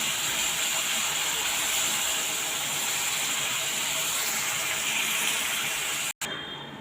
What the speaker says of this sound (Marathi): पनीरचे पीस आहे ते तेवढे तेलामध्ये त्यांना रोस्ट करून घेणार आहे थोडे हलके परतून घेणार आहे